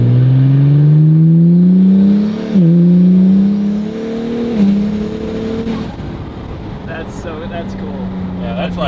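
An Acura NSX upgraded with Pure 900 turbos revs at partial throttle, its engine tone climbing and dipping through several pulls, loud and close, while people talk over the later part.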